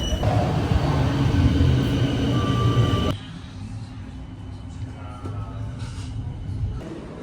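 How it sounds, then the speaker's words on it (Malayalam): A tram arriving in Potsdam, Germany rumbles and hisses loudly close by for a few seconds, then gives way to a quieter low hum of the surroundings. "ഇപ്പോൾ ഉടനെ തന്നെ ഉണ്ട് ഒരു ട്രാം."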